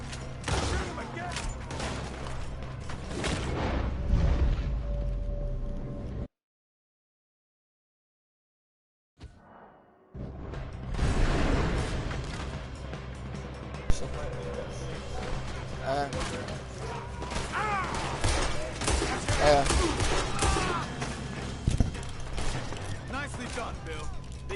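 Gunfire during a Red Dead Redemption 2 shootout: bursts of shots and crackling reports over busy game noise, broken by a brief total silence, then more scattered gunfire. People talk and shout throughout.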